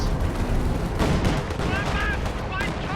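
Artillery barrage and gunfire in a World War II real-time strategy game, with shelling aimed at a field gun near a T-34 and a Jagdpanzer: a dense, continuous roar of overlapping blasts and crackling shots, loud throughout.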